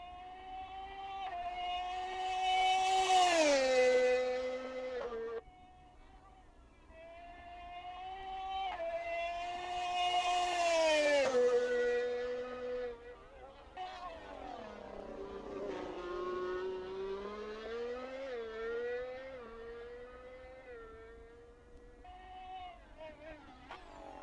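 Engine of a car lapping a track in a racing video game, rising and falling in pitch through repeated long acceleration sweeps with gear shifts, loud and up close with no talking.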